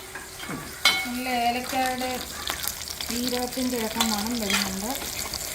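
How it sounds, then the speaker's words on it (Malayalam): Mustard seeds and dried red chillies fry in hot oil while a ladle stirs them, a steady close sizzle running beneath the background music. "ഈ കടു വറക്കുന്ന കൂട്ടത്തിൽ തന്നെ നമ്മൾ ഈ വറ്റൽമുളകൊക്കെ ഒന്ന് മൂത്ത് ചെയ്യുന്നത്"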